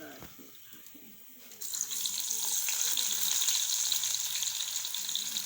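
Onions hit hot oil in a karahi with a sudden loud hiss partway through, then sizzle steadily and close. Quieter handling noises come before it.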